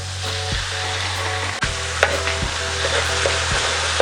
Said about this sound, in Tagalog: Hahaluin na naman po natin para ma-spread po yung ating toyo